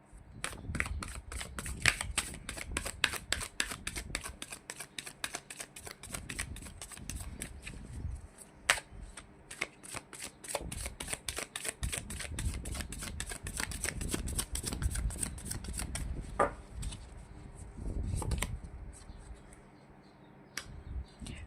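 Tarot cards are shuffled close up in quick rapid riffling flutters and soft slaps, continuing in long runs with brief pauses and card taps.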